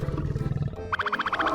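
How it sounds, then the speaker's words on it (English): A lion roars in a deep, rumbling burst, followed by a brighter pulsing, repeated call; moderately loud and close, with no talking. "That's the lion's voice."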